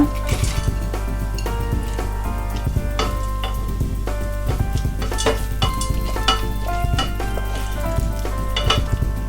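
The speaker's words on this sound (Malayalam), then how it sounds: "ഉള്ളി ചെറുതായി മൂത്ത് വന്നിട്ടുണ്ട്. ആ സമയത്ത് ഇതിലേക്ക് അണ്ടിപ്പരിപ്പ് ചേർത്ത് കൊടുക്കുക" Cashew nuts and onions fry in a pan with a loud, continuous sizzle, while frequent clinks and scrapes of a utensil stirring against the metal break through, with a low steady hum underneath.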